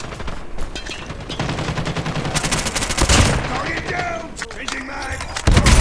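Rapid bursts of AS VAL rifle fire in the Call of Duty Mobile video game, loud and dense, with continuous shots and a few brief gaps over game noise.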